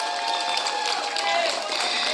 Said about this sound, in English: Tolong berikan applause-nya